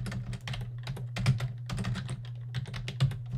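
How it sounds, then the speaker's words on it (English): Steady typing on a computer keyboard, a fast run of close, crisp key clicks with brief pauses and a constant low hum underneath. "you're going to want to type in power cfg"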